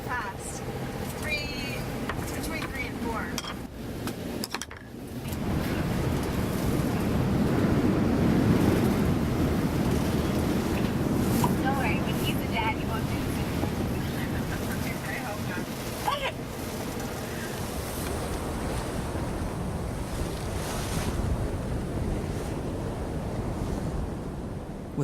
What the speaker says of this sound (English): with waves crashing and the storm pounding us relentlessly